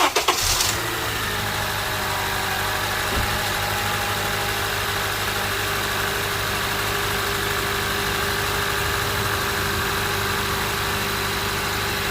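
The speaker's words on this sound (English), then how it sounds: "You know what, we're just gonna start the engine." A 2001–2017 Honda CR-V 2.4L engine cranks and catches near the start, then settles into a steady, continuous idle hum that runs on unchanged, with no talking.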